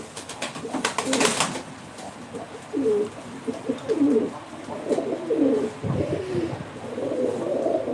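Tumbler pigeons at a live auction coo repeatedly in low, throaty phrases, moderately close, with brief flutter or scuffle noise near the start and steady pen ambience throughout.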